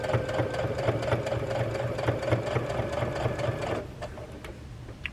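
Close sewing machine running a steady, rapid stitching rhythm along a seam on a welt-pocket Christmas stocking, with a brief drop in level near the end as stitching slows.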